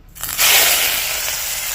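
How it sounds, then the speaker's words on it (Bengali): Large prawns, about two hundred grams, drop into hot oil and burst into a loud, steady frying crackle that swells after a brief quiet start and stays dense and bright. "এবার এই তেলের মধ্যে আমি চিংড়ি মাছটা ভেজে নেবো"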